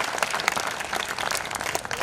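Audience applause at a Hindi kavi sammelan poetry gathering in Udaipur, steady dense clapping from a crowd that holds evenly for the whole stretch.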